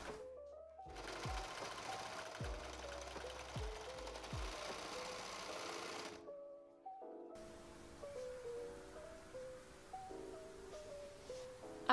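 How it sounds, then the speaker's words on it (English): Serger sewing machine overlocking the edges of a coat made from a quilt, a steady close mechanical hum for several seconds, then a short pause before running again. "And then I'm going to go ahead and serge those edges."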